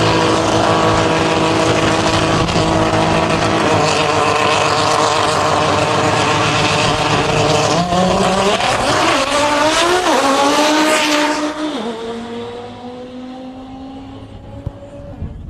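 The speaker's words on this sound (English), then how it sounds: "Patrick Scusi coming up in the Audi TT RS right-hand side, and Jan Mueller in the Corvette left side" An Audi TT RS and a Corvette race car pass on a circuit, loud engines roaring close by with rising and falling pitch as they shift and sweep past, then fading into the distance.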